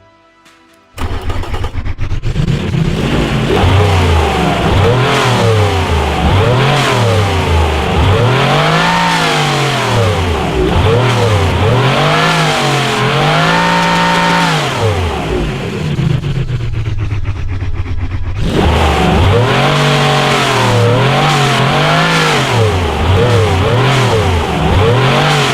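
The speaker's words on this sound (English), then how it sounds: "The exhaust is perfect." Naturally aspirated car engine revved hard through its exhaust, pitch climbing and falling in a run of repeated revs, loud and close with no talking.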